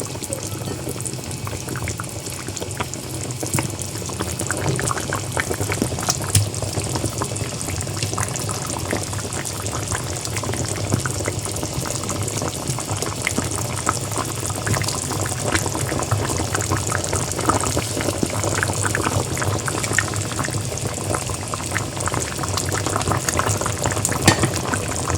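A taro curry simmers in the pot as hilsa fish pieces go in, a steady close bubbling and liquid churn running unbroken throughout, with no talking.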